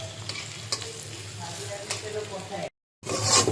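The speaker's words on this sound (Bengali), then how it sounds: "পেঁয়াজ এবং কাঁচামরিচ ভাজতেছি।" Onions and green chilies fry in mustard oil for a mixed vegetable dish, a close, steady sizzle with occasional stirring scrapes, briefly dropping to silence before the frying resumes louder.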